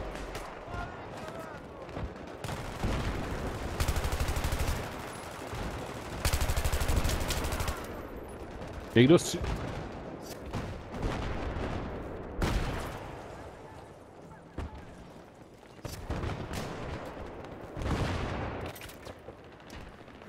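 Gunfire crackles through a Battlefield match on the Seine Crossing map, with bursts of automatic fire and scattered shots, some near and some distant, under frequent talking among players.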